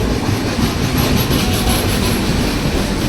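An Indian passenger train rolls along, heard from inside a chair car as a dense, steady rumble with rhythmic clickety-clack of wheels over rail joints and a faint high squeal.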